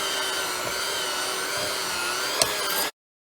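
An electric mixer churns dough at a higher speed, a steady continuous whir with a faint clunk near the end before it cuts off abruptly.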